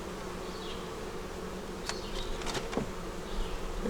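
Honey bees buzz steadily at a double deep nuc hive, a dense continuous drone close by with brief sharper bursts as individual bees pass near.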